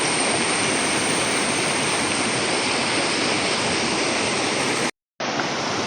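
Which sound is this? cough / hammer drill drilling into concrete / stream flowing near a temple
stream flowing near a temple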